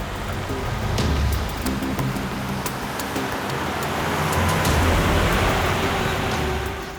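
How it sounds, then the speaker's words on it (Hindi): A car arrives and its engine rumbles steadily under heavy rain, the wash of traffic and drizzle holding at a constant level throughout, in a Hindi TV crime series scene with no talk. "सर गाड़ी की आवाज सुनी आपने?"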